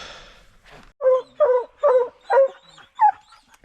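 Hound dog baying at a bobcat treed during a hunt, five loud, evenly spaced barks close by after a brief quieter rustle, with no talk.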